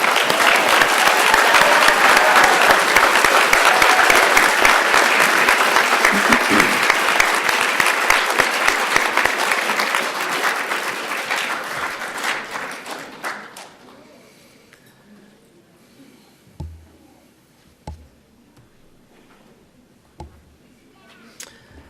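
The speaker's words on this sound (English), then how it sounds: "How about one more round of applause for our graduates?" Sustained audience applause for culinary school graduates at a commencement ceremony in Austin, loud dense clapping that gradually fades and dies away, followed by a few isolated knocks and faint room sounds.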